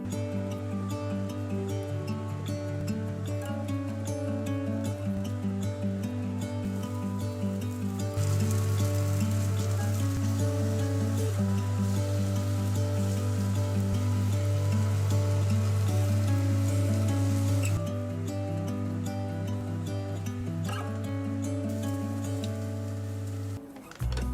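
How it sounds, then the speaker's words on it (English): Patties sizzling in a pan, a steady broadband crackle like rain that keeps going, close and fairly loud, with a tonal background hum and no talking. "I'm gonna form some patties now and place them in a pan"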